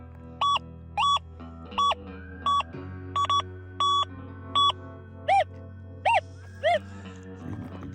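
An XP Deus 2 metal detector sounds a string of about ten short, sharp, evenly spaced beeps while testing among hot rocks, over a steady low hum, with no speech.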